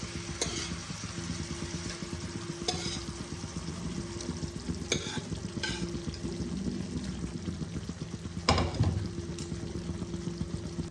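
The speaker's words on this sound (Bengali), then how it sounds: "এবার আমি সেদ্ধ করে রাখা ছোলার ডালগুলোকে আমি দিয়ে দেব।" Boiled chana dal added to a frying pan and stirred, a steady close sizzle with periodic spoon scrapes and a brief louder wet slosh near the end.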